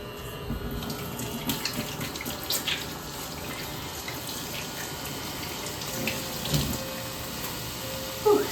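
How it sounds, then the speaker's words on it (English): Water runs steadily from a kitchen tap as hands are washed under it, with splashing changes and a few clatters near the end, no talk. "so I'm washing my hands so I can get the onion"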